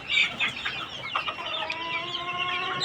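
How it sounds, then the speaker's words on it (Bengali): Colombian Light chickens, two roosters and four hens, clucking close by with bursts of calls and a steady sustained note later on; no talking. "এর মধ্যে দুটো হচ্ছে মোরগ আর চারটা মুরগি"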